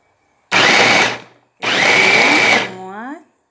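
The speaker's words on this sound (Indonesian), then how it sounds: "Kita giling dulu ya." A blender grinds garlic, ginger, galangal, turmeric, kencur and red chili for Balinese ayam betutu paste, in two loud whirring bursts with a brief stop between, the second ending as the motor winds down.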